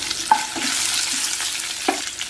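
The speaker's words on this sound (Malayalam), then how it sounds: "വറ്റൽമുളകും കറിവേപ്പിലും ഇട്ട് കൊടുക്കുക" Dried red chilies and curry leaves hit hot oil with mustard and fenugreek seeds for an Onam sadya dish, giving a steady close sizzle with a few sharp crackles and pops and light stirring, no voices.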